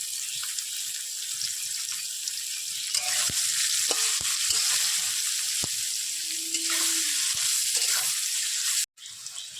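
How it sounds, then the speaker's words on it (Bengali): Potatoes and chopped onion frying in a pan with turmeric, a steady sizzle under scattered clinks and scrapes of stirring, ending with a short break. "আলুটা পেঁয়াজটা ভালো করে ভাজা হয়ে গেছে"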